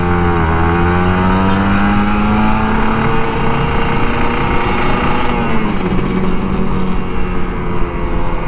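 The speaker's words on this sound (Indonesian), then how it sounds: "enaknya bawa motor pagi-pagi tuh gitu, ngegas bro, ngegas" The throttle of an older Kawasaki Ninja RR 150 opens on a morning commute, its engine pitch sweeping upward, dipping, then climbing again, loud and near, with no voices.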